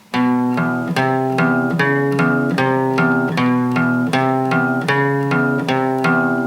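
A guitar plays a song intro, a steady, repeating pattern of bright picked notes and chords, close and clear, with an even rhythm and no voices.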